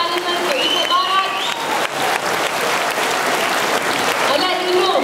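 A crowd at a political rally gives a loud round of applause, with cheers and shouts mixed into the steady clapping. Voices rise over it at points.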